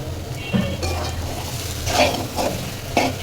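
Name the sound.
stirring mutton mixture cooking in a pan for chops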